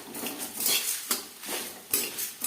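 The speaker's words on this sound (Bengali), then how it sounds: "যতক্ষণ না পর্যন্ত মশলা থেকে স্মেল বেরোতে শুরু করে দেয়, ততক্ষণ পর্যন্ত নাড়াচাড়া করে নেব" Whole spices and black pepper being stirred in a pan over a low gas flame, with a spoon clinking and scraping against metal in quick irregular strokes, close and clear, with no talk.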